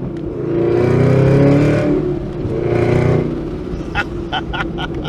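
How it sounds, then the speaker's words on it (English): Chevrolet Camaro ZL1 1LE engine revving through two loud surges as the auto rev-matching blips on downshifts, heard from inside the car, with a voice exclaiming over the rumble. "That is the auto blip downshift feature."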